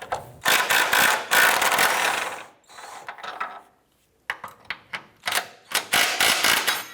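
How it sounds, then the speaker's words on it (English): A ratchet with a 17mm socket backing out front transmission mount bolts on a 2004-2008 Acura TL, rapid clicking bursts broken by short pauses, close and fairly loud. "Using a 17mm socket, we're going to go ahead and remove these two bolts."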